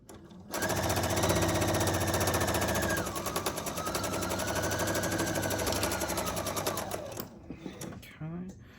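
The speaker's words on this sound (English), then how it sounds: "I generally just sew all the way off" A sewing machine runs a long continuous seam joining quilt rectangle and triangle pieces, its loud, close, rapid needle rattle stopping near the end, with talk over it.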